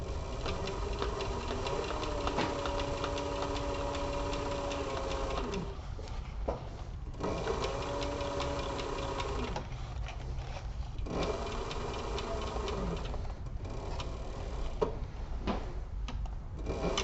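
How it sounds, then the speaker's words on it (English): A sewing machine stitches a seam on a toiletry kit, running in steady humming stretches broken by short pauses, close up and alone. "We'll start out backwards, go just a couple of stitches, and then run it forward."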